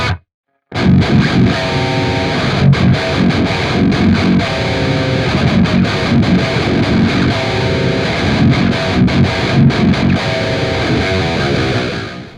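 Heavily distorted electric guitar chords run through the Neural DSP Archetype Gojira amp plugin, a loud, full, rhythmic riff with sharp stops after a brief silence at the start, no voices.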